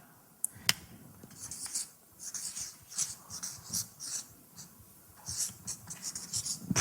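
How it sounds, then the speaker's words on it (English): A marker squeaks and scratches across a board in short, rhythmic strokes, close and fairly loud, with a few taps between the strokes and no talking. "I'll write it up here. Let's see it. Do this in blue now."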